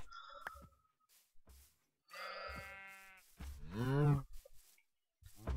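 Cows mooing in the video game Minecraft, several separate low drawn-out moos with pauses between them, fairly close and quiet, with no talking.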